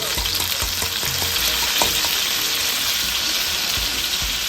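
Onions and garlic sizzle loudly in a frying pan, a steady close crackle and hiss with a few stirring scrapes, alone without talking.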